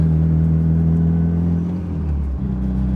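Fully built Mitsubishi Evo 9 accelerating in third gear, heard from inside as a loud, steady engine drone with a deep rumble and a slight dip in pitch near the end.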